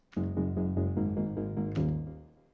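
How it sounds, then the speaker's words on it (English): Synthesized piano tones play a short legato melody, notes blending into one another, with a fresh chord struck near the end that rings out and fades. "Piano sounds like this."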